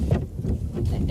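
Strong wind buffets the microphone outdoors beside the water near a riverbank, a loud rumbling gust that lasts the whole brief moment.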